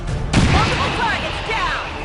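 A frag grenade goes off in a video game. One sharp, loud blast is followed by rumbling debris, and faint voices and game noise sound in the background.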